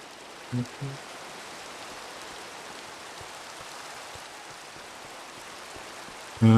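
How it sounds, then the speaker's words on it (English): Rain falls in the Minecraft video game as a soft, even hiss throughout, broken by a couple of brief soft thumps near the start and a louder one at the end. "I should sleep to stop this rain"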